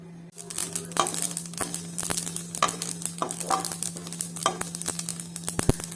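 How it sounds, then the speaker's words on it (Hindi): Peanuts roast in a pan over low heat, scraping and rattling in quick, uneven bursts, with sharp clinks from stirring against a faint steady hum. "तो पहले हम मूंगफली को धीमी आंच पे भून लेंगे।"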